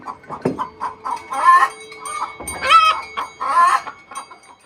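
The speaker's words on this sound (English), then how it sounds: "that's the sound of chickens getting ready to lay eggs." Free-range farm chickens cluck steadily in a busy overlapping chorus before laying eggs, with rising squawks breaking through at a close, moderately loud level and no talking.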